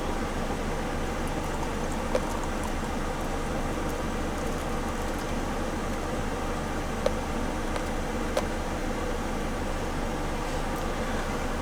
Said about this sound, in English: Kettle.